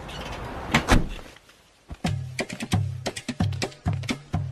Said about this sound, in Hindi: तुम बाहर से दरवाजा बंद कर दो।